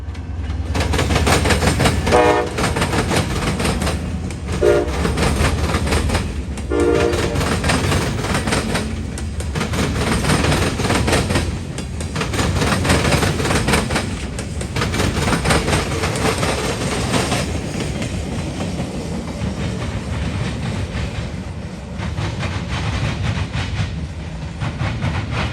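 A CSX freight train with its locomotive rolls past loud and close on the Indy Line, wheels clacking rhythmically over rail joints and horn blasts sounding, a long continuous roar with no voices.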